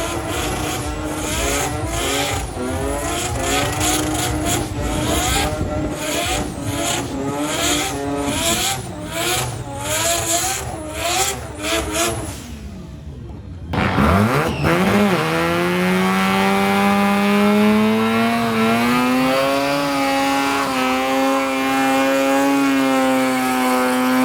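Rotary-engine cars drag racing at the Rotary REunion 2020 event: a loud, buzzy engine revs hard through rapid gear changes, then another car launches with a high rising wail that holds steady and close.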